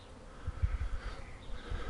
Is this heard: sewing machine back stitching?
no